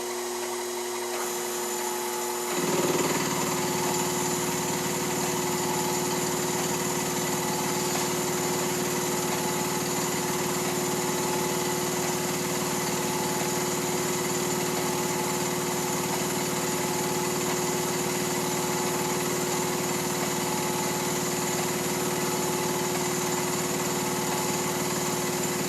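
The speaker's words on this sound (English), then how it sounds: "now I will mill a chamfer with the click of a mouse" A CNC mill cuts a chamfer on a spring steel part, with a sharp start after a few seconds into a sustained high-pitched whine and tonal hum that runs steadily and fairly loud, alone with no voices.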